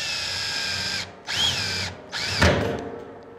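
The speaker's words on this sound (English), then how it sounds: "Comes our hole saw." A power drill whines loudly in bursts, stopping and restarting three times as a hole saw cuts into a steel drum barrel for a smoker build, ending with a sharp bite into the metal.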